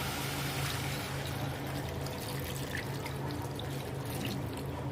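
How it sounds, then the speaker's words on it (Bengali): Water is poured into a pot of chicken curry, a faint, steady splashing trickle with a low background hum throughout and no talk. "জল ঢেলে দেবো।"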